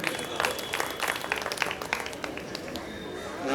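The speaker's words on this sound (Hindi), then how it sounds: "तालियों के गूंज में उनका इस्तकबाल किया गया" An audience at a book fair inauguration claps steadily, a dense patter of many hands at moderate distance, sustained without pause.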